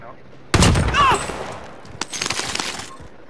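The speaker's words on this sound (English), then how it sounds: "where's that guy shooting at me from the rooftop?" Gunfire in Call of Duty: Modern Warfare comes as a sharp, loud burst of shots with ringing debris, then scattered quieter cracks in the distance, while a player talks over the action.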